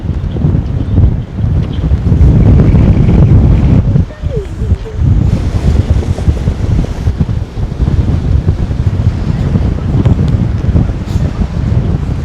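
Strong wind blowing at Urangan Pier in Hervey Bay, buffeting the microphone with loud continuous gusty roar and rumble near the sea, steady throughout with brief lulls.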